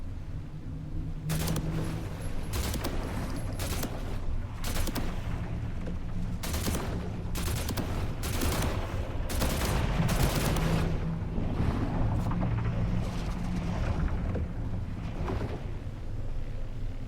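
Gunfire from a weapon test in the video game The Last Caretaker, loud bursts of rapid shots in irregular clusters, some spaced single cracks, with a low rumbling background.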